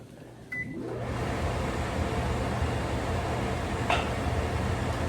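A home kitchen exhaust fan runs steadily as a broadband whoosh with a low hum, preceded by a faint short beep at the start.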